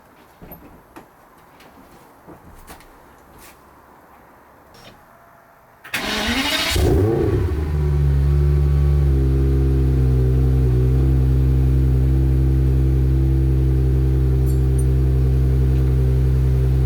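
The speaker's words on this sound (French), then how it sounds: "Cette fois, les deux sorties d'échappement évacuent du gaz de combustion" Aston Martin DB7 engine cranking and catching around the six-second mark after a fuel pump fuse fix, then settling into a loud, steady idle with both exhaust outlets running; quiet handling noises come before the start.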